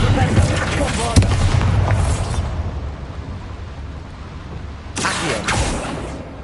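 A Bombarda blasting spell explodes in Hogwarts Legacy, a loud booming burst with rumble and crackling debris that fades, followed by a second blast a few seconds later.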